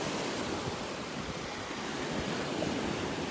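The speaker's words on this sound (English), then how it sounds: "every once in a while the waves are huge here" Ocean surf breaking along a shell-strewn beach in North Naples, Florida, a steady loud wash of waves with wind noise on the microphone, no voices.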